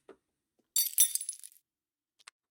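A glass-breaking sound effect sample: a sharp crash with bright tinkling shards scattering for about a second, a faint clink before it and a couple of small glassy ticks afterwards in otherwise silent surroundings.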